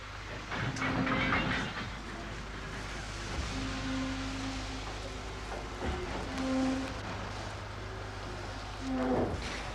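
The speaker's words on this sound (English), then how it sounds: "Start the bloody train." A train starts on a film set, a low rumbling chug with rising mechanical noise and a few tonal whistle-like hoots, steady and fairly distant, without talk over it.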